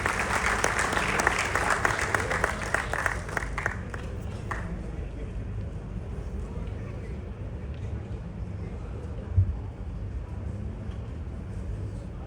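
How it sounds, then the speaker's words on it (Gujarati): A crowd at an award ceremony for Gujarati cinema creators claps loudly and densely for about four seconds before it dies away into quieter hall ambience with occasional thumps. "એકવાર જોરદાર તાળીઓથી તેમને બધાવીએ."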